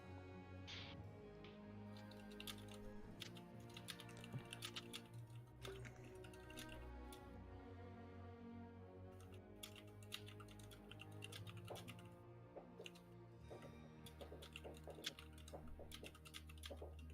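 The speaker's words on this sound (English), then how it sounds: "I can hear her typing" Quick, irregular keystrokes on a computer keyboard, clicking softly and close during an online tabletop role-playing game session, with short pauses between bursts and a faint steady background hum.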